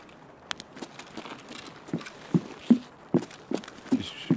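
Footsteps on wooden flooring in the Escape From Tarkov shooter game, a series of irregular soft thuds that grow somewhat louder and closer toward the end, with no talking.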